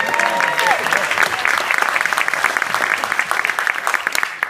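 An audience at a comedy talent show breaks into lively applause, dense clapping with a brief voice at the start, holding steady for a few seconds.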